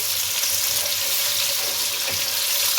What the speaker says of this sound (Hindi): 2 मीडियम प्याज जिसकी मैंने स्लाइस में कटिंग की है वो डाल दें और प्याज को फ्राई करें